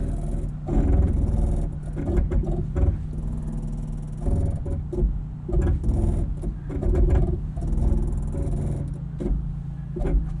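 A 2022 Toyota 4Runner TRD Pro creeps along an off-road trail under crawl control, with low engine rumble, brake and drivetrain clunks and grinding pulses rising and falling through the run, no speech.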